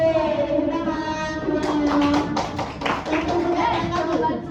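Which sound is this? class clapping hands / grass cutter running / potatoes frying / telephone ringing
class clapping hands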